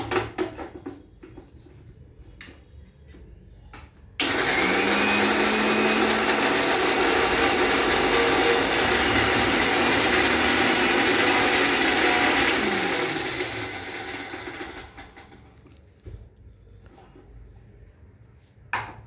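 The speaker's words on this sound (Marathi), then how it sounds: "हे मी मिक्सरमधून काढून घेते" An electric mixer grinder whirs loudly and steadily as it grinds curry leaves and spices, starting abruptly after a few quiet knocks, holding a constant high drone, then winding down and stopping.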